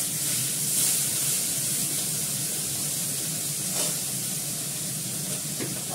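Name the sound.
gas stove being lit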